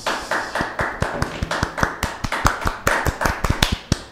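Hands clapping in a close, dry series of sharp claps, about twenty in four seconds with an uneven rhythm, alone and clearly heard.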